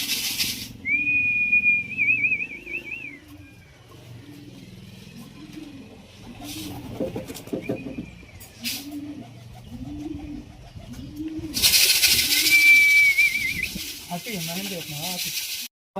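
Racing pigeons coo in a steady run of low, rounded phrases, repeating every second or so. High thin whistles break in at the start and again near the end, with a brief burst of hiss before the final coos.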